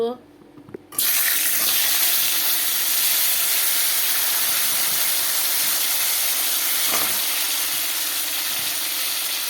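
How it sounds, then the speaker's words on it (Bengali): Potatoes drop into hot oil in a kadai. After a quiet second, a sudden loud, dense hiss erupts and holds steady and close to the end. "আমার আলুগুলো এখানে লাল লাল করে ভেজে নিলাম"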